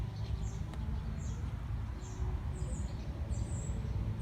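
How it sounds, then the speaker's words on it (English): A small bird in a vegetable garden gives a series of short, high chirps at a steady pace over a low, constant outdoor rumble. "That bird is still in here."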